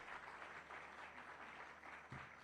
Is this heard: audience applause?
yes